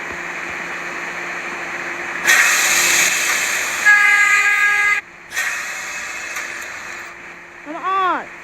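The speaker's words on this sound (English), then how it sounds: "It's a type of subway train." An R38 subway train passes with a loud, rushing rumble, a sustained tonal horn blast partway through, a sudden brief drop in noise, then the roar returning with squealing, warbling tones at the end.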